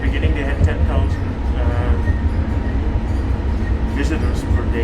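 Riding aboard a Bangkok BTS Gold Line train in the evening, with a steady rumbling interior hum, faint rail clatter and some squeal throughout, while people talk nearby.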